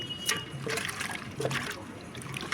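Vegetables being rinsed by hand under running water in a home kitchen, a steady trickle with soft splashes and handling sounds, fairly faint and close, with no talking.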